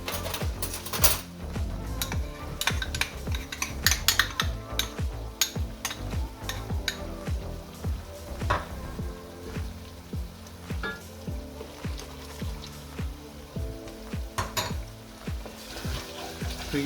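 A spoon stirs sweet pepper paste in a pot over caramelized ingredients, making repeated metallic clinks and scrapes in an irregular rhythm over a faint sizzle, close and fairly quiet.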